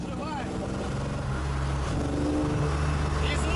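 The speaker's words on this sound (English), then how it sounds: "The engine really comes alive at higher revs." A replica Lamborghini Aventador's engine hums and rises in pitch as it revs up, loud and close, with a voice speaking over it.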